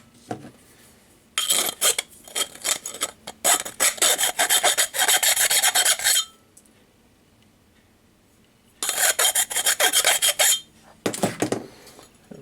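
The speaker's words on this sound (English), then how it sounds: "Rub around the inside with a half round file just to take the burrs off" Half round file rasping around the inside of a brass bush to take off burrs, loud close bursts of quick rhythmic metallic scraping strokes, broken by a long quiet pause before more filing, with no talking.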